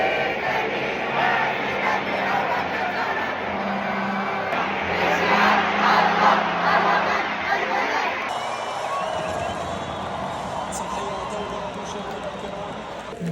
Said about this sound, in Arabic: الجماهير كلشي متحمس وكاين التشجيعات.